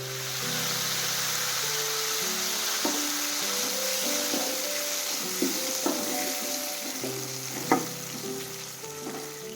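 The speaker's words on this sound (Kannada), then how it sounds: "ಇವಾಗ ಫ್ರೈ ಆಗ್ಯಾವ ನೋಡ್ರಿ" Curry leaves and green chillies sizzle steadily in hot oil for a tempering, a dense continuous crackle with occasional sharper pops and faint stirring clinks, close and fairly loud with no talking.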